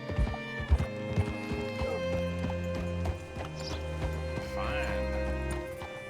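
Horse hooves clip-clopping in the Red Dead Redemption 2 video game, steady footfalls mixed with a whinny under game music and talking voices.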